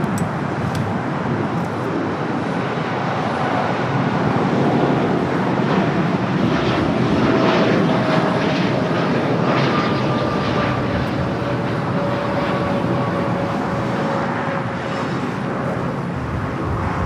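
A Boeing 787-8 Dreamliner airliner roars steadily at LAX, heard at moderate distance. A broad engine rumble and a whining tone slowly fall in pitch, with no speech for the whole stretch.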